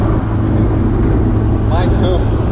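A small car drives along a road with a loud, steady engine drone and constant road roar, close and filling the whole stretch without letup.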